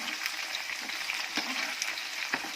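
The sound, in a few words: sem (green fava) beans frying in oil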